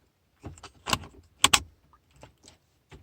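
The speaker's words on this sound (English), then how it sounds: "Once you hear that click, it's in." A Toyota Yaris climate control vent selector bulb is pushed into its housing, producing a few sharp, close plastic clicks and light rattles over about three seconds, with quiet gaps between them.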